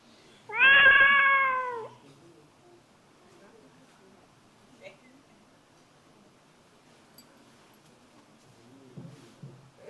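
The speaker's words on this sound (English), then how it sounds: "The cat is isolated in an unfamiliar environment." A cat gives one loud, drawn-out meow lasting about a second and a half, isolated in an unfamiliar environment, followed by near silence with only a few faint ticks.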